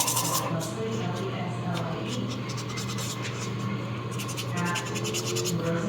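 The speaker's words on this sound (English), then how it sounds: "So as I'm sanding here" Close, steady scratchy rasping of sandpaper worked back and forth on a small resin 3D-printed figure, continuing throughout in quick repeated strokes.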